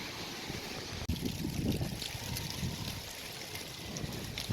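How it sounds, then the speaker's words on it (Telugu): The Bahubali waterfall, also called Sariya waterfall, near Devarapalli flows with a continuous, moderately loud rushing wash. A single sharp knock comes early on. "చూసారా వాటర్ ఫాల్."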